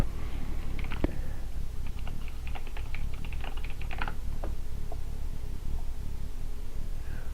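Commands are typed quickly on a computer keyboard for a Raspberry Pi bot, an irregular patter of close keystrokes with bursts and short pauses over a low steady hum.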